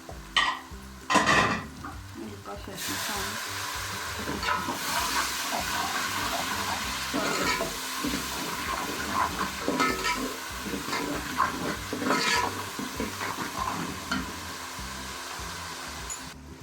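Spice masala with coriander and cumin powders roasting in a pan, sizzling and frying steadily while a spoon scrapes and stirs against the metal, with a few clattering knocks early on.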